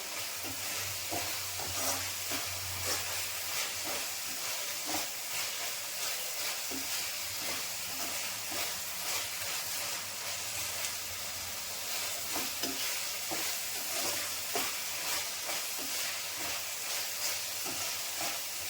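Gojju gravy bubbling and frying in oil in a pan while being stirred, a continuous dense sizzle and hiss with light stirring taps running steadily throughout, no speech.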